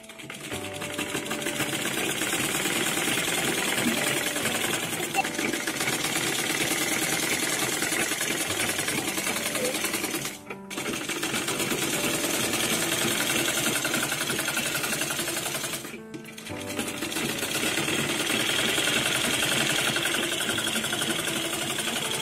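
A sewing machine stitches the frill seam of a step skirt, giving a steady, close mechanical whirr that runs continuously with two brief pauses and no talking.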